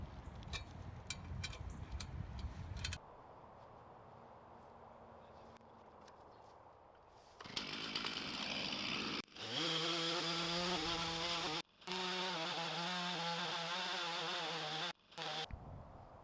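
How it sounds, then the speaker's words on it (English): A homemade chainsaw mill with a 20-inch bar cutting a board from a log: the engine starts partway in and holds a loud, steady high whine, with a couple of brief dips as the throttle eases off. "when I built the chainsaw mill, I built it so it would cut 16 inches wide"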